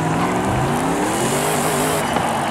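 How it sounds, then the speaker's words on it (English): A heavy diesel truck in the racing game Forza Horizon 5 gives a loud, continuous engine roar with a rising drone as it accelerates, with a faint squeal of tires over it. "Listen to that engine."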